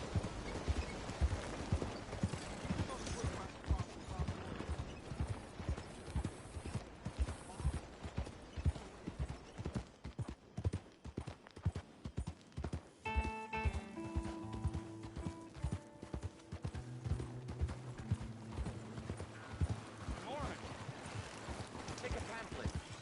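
Horse hooves clip-clopping in a steady, continuous rhythm at moderate distance, with a voice talking over them and a brief tonal melody rising partway through.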